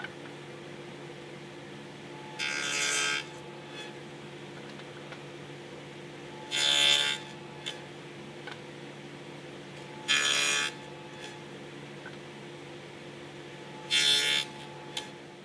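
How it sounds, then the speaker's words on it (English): Dado blade on a table saw cutting a wood tenon, four separate short bursts of cutting spaced a few seconds apart over a low steady motor hum, no talking. "I push it through the blade and then rotate it and push it through again"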